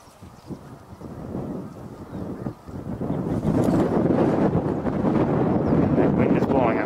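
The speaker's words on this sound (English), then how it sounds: "That wind is blowing, I'm sorry about that." Wind buffets the microphone outdoors, light at first and then a loud, rumbling roar that covers the scene, with faint bird sounds and a voice talking under it early on.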